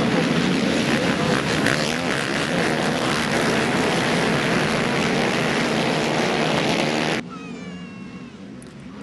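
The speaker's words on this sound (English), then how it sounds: "The quads are pinned, and they're off." Pro ATV quads roaring off the start at a motocross track, a dense, loud engine wail from the pack that cuts sharply to a quieter, thinner engine whine near the end.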